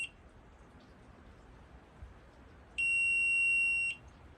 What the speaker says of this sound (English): So it's slow beeping if you're too low. It's a solid tone if you're dead on.